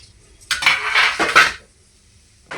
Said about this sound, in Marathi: हे जे आहे ना आपल्याला व्यवस्थित छान खरपूस होईपर्यंत भाजून घ्यायचं आहे